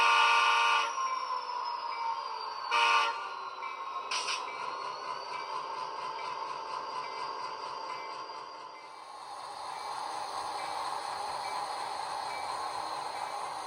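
A DCC model train runs along the track with a soft steady mechanical hum, broken early on by a few short bursts of its horn sound, quiet and close throughout.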